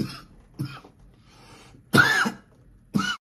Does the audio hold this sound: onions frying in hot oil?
no